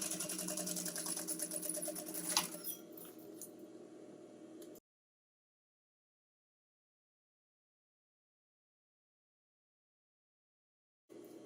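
A sewing machine double-stitching fabric on a string backpack whirs steadily up close for several seconds, then falls silent, with a brief burst returning at the very end.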